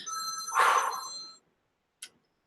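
A telephone rings in one sustained electronic burst of bright, steady tones that cuts off abruptly, followed by a faint short click, with no talking.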